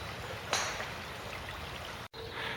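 Dollis Brook flowing along a London walking path, a steady broadband wash of running water with a brief louder splash early on and a momentary dropout near the end.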